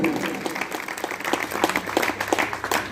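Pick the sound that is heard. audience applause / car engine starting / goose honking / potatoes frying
audience applause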